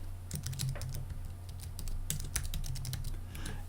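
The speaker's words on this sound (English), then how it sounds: "I'm pressing the Command-Shift-N keys to create a new folder on my desktop." Keys clatter on a Mac keyboard as the Command-Shift-N shortcut is pressed to make a new desktop folder, a quick irregular run of close, crisp clicks over a low steady hum.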